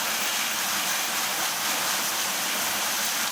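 Water rinsing off a bicycle seat post, a steady close hiss of running, splashing water that holds continuously before cutting off at the end.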